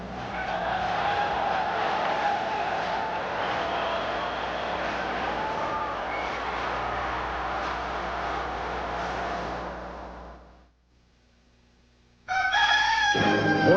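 A rooster crows loudly in a Golden Plump chicken commercial about Minnesota-grown chickens, over a dense busy backdrop. The sound cuts to near silence, then a bright, sharp burst returns at the end.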